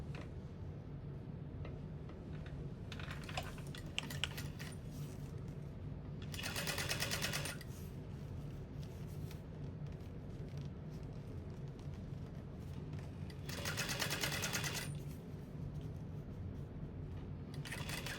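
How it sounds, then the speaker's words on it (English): A sewing machine stitches a handbag's upper lining panel at a 3/8 inch seam allowance, a steady low mechanical whir with two louder bursts of fast running, each lasting about a second, against a quiet background. "we're going to sew that at a 3/8 inch seam allowance"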